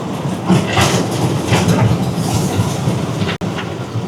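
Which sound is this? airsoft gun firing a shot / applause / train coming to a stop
train coming to a stop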